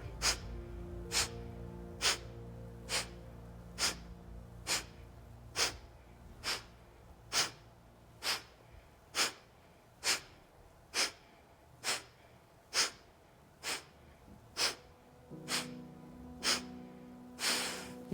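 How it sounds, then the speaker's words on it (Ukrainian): Rhythmic breathing exercise done during a fitness workout: about twenty sharp, evenly spaced breaths repeat roughly every 0.8 seconds, close and clear, over a low steady music bed. "Вдих і працюємо."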